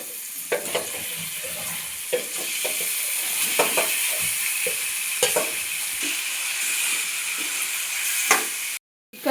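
Chicken pieces hit oil with fried onion and tomato for a home-style chicken curry and sizzle steadily, with repeated spatula scrapes and taps as they are stirred, before a sudden cutoff at the end.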